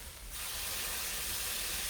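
Steam hissing as liquid hits a hot cooking pan of bacon bits and cabbage, a broad, steady hiss that swells after a brief quieter start and holds loudly.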